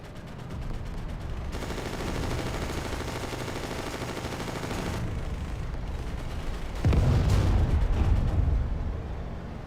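Sustained rumbling barrage of artillery and gunfire in a World War II–style video game battle, a dense continuous roar that swells louder and heavier near the end, with no talking.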